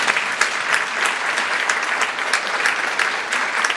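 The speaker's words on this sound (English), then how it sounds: "So quick round of applause for that." Audience at a spring school band concert gives a steady, dense round of applause, many hands clapping together evenly throughout.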